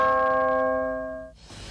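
A large cast bell at the Marinelli bell factory rings once with a clear, sustained metallic tone that slowly fades over about a second before a shuffle of background noise takes over.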